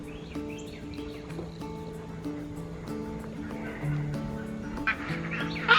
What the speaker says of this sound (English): our friend Greg, our guardian goose here. Does a really good job of alerting when something's around. It keeps going on right now.